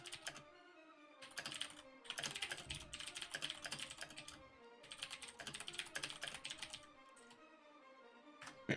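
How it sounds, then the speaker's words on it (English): Typing on a computer keyboard, with dense bursts of fast clicking keystrokes separated by short pauses, close and clear with no voices. "Isabella your keyboard's so nice"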